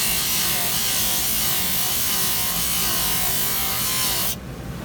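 Pumice-charged polishing wheel spinning at high speed and pressed hard against the teeth, a steady dense abrasive rubbing whir that holds loud and even before cutting off abruptly near the end.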